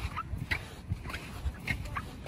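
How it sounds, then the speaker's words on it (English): Sand squeaks underfoot at Squeaky Beach, with short chirping squeals repeating in an uneven walking rhythm over low background rumble. "You can hear the sand squeaking in the background"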